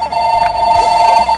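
A telephone rings with a steady, loud electronic tone, held continuously for just over a second with no talk over it.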